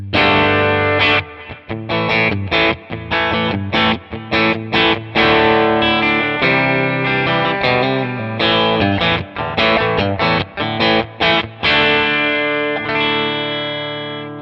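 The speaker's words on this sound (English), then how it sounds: "if we go to the bridge pickup, you kind of get that Tele poke." Fender Jason Isbell Custom Telecaster on its bright, twangy bridge pickup, played in choppy strummed chords and short riffs with sharp attacks, loud and close, no voices.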